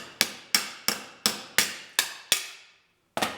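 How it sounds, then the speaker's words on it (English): A hammer strikes lead-loaded car bodywork in sharp, evenly spaced blows. There are seven in steady rhythm, then a pause and one more hit. Each one rings briefly and decays, close and clear with no talking. "I can hammer on this and it won't come out."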